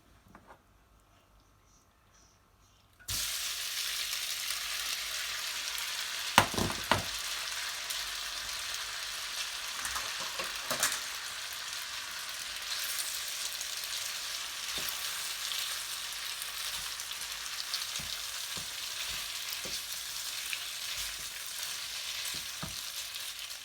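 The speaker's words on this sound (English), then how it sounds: "Now I'm going to shift the pasta from this bowl to this pan." Pasta shifted from a bowl into a pan, starting with a quiet pause, then a steady frying sizzle with occasional scraping stirs and small clinks, close and continuous.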